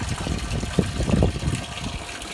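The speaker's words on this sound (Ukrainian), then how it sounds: "Качає дуже швидко." A pump draws water out of a pit through a hose, making a steady close gushing and sloshing rush of liquid with small surges.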